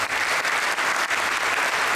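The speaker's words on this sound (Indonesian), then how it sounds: "Tepuk tangan dulu." An audience at an evening business awards gala breaks into brief, dense applause, a steady wash of many hands clapping throughout.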